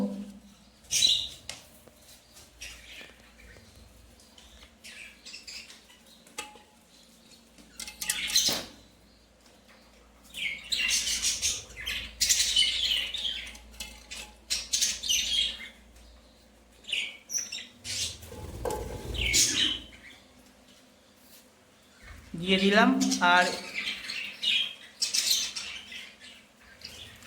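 Birds squawk and chirp in scattered bursts, fairly close, with a few quiet spoken words partway through.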